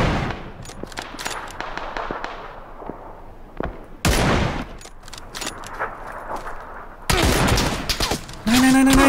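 Rapid gunfire in the video game PUBG (Playerunknown's Battlegrounds), with bursts of sharp shots in quick succession, loud and close, broken by short gaps and sudden louder volleys toward the end.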